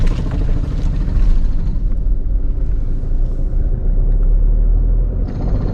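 A 2020 Honda City BS6 automatic accelerates in first gear at around 2500 rpm, a loud, steady low engine drone and road rumble from inside the cabin that stays even throughout.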